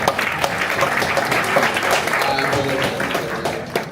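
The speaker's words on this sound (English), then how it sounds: "Come on up, big applause." Audience applause fills the room as a performer is called up on stage at a live show, a dense steady wash of clapping with some crowd noise running throughout.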